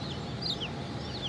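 Olive Egger chickens, a Welsummer and cream legbar cross, cluck and chirp in short bright calls against a steady low background hum.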